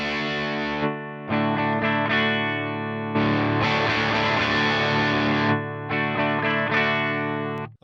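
Electric guitar running through a Headrush multi-effects unit, heavily distorted with chorus, playing sustained chords in several bursts separated by short gaps, with a faint wispy noise at the switch between effect blocks.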